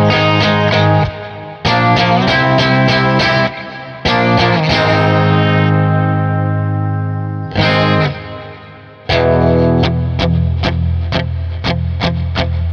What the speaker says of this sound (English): So let's hear the bridge pickup first.